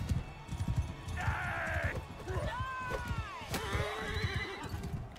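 Horses neigh and whinny amid clip-clopping hooves in the medieval combat game Mount and Blade II: Bannerlord, with two or three rising and falling calls over busy battlefield noise.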